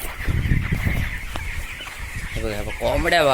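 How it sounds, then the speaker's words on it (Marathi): Commercial-breed chickens cluck close by, a series of short clucks followed by a few louder, drawn-out calls near the end. "कोंबड्या बघा जिथं जाशी येतं कोंबड्या बघा."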